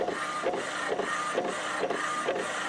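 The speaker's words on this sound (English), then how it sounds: "I'm printing it out." An Epson Stylus C88+ inkjet printer prints with a rhythmic whirring, its print head sweeping back and forth in regular passes about every half second, loud and close.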